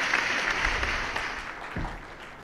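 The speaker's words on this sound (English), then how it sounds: "Can we please have a warm round of applause" Audience applause after a speaker introduction at an Indian automotive simulation industry event, a steady wash of clapping from a crowd, moderately loud and even throughout with no clear individual claps standing out.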